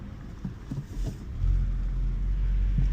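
A 2024 Honda Civic Type R driven at speed, its low engine and road rumble steady at first, then swelling louder and holding about halfway through.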